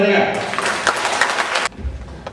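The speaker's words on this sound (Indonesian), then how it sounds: "Oke, tepuk tangan untuk mereka." Applause from a crowd at a 2006 company gathering in Batu, Malang, an even wash of clapping that runs for under two seconds and stops sharply, with some voices mixed in.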